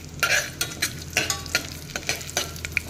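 Whole spices and cumin seeds sizzle in oil and ghee in a pressure cooker, with a steady hiss broken by sharp crackles and spoon-stirring scrapes at an irregular rhythm, close by.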